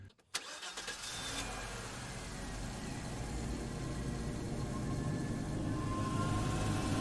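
A car engine on a coastal road, a short clunk and then a steady, fairly loud running drone that builds slightly, with no voices.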